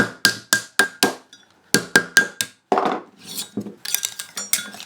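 Sharp metallic hammer strikes ring out in quick bursts as a metal cuff bracelet is shaped around a mandrel, about a dozen close blows in uneven groups with brief pauses between them.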